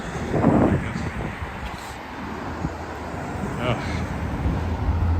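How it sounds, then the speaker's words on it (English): Sharp winter wind gusting along a downtown street in Regina, heard as a steady broadband rush with distant traffic beneath it and a faint voice briefly audible. "So the wind is still sharp."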